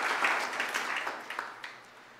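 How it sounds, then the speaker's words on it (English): Church congregation applauding the fathers during a Sunday homily, a fairly faint, diffuse round of hand clapping that fades out over a couple of seconds, heard from a distance in a reverberant space with no talk over it. "We could give them a round of applause."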